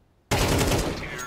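Rapid automatic gunfire aimed at the floor in the Counter-Strike 2 video game bursts in abruptly after near silence, a dense, loud rattle of overlapping shots sustained to the end.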